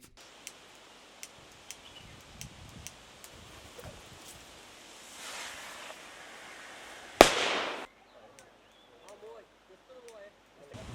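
Firecrackers set off by a crew driving wild elephants back into the forest around Munnar: a string of small, sharp, evenly spaced pops gives way to one loud close blast with a brief rushing tail, then faint voices and outdoor noise.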